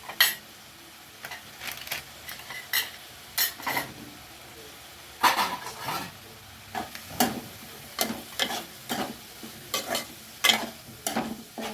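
Chili powder being stirred into egg bhurji frying in a pan, with repeated scraping strokes of a spatula against the pan over a faint sizzle, close and moderately loud, no talking.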